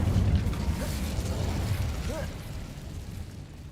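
Incendio fire spell cast in Hogwarts Legacy, a loud low burst and whooshing rumble at the start that fades over a few seconds amid game sound effects.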